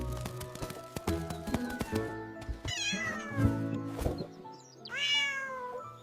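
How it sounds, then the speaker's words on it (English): Several small pet cats meow in an ASMR miniature village kitchen: a string of close, clear meows and a drawn-out cry, with soft clicks and taps of small utensils between them. "Meet my little cats."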